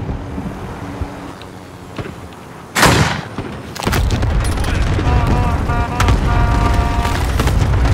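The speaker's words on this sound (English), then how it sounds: "Allied cluster strike inbound." In a video game, an allied cluster strike lands with a sharp burst, then a dense, continuous rumble of explosions that grows louder, heavy and close, with faint voices underneath.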